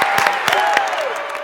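An audience applauds a cheer squad with dense, steady clapping and crowd noise filling the whole short stretch at a fairly loud, even level.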